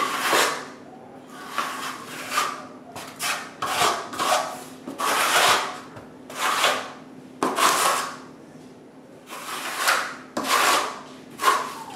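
Close rhythmic rubbing strokes of a cloth or sponge wiping excess off tile flooring, repeated swipes in bursts about a second apart with short pauses between, no talking.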